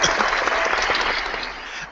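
A short, steady burst of clapping plays on a tennis fan podcast. It is dense and fairly loud and runs evenly for about two seconds before stopping abruptly.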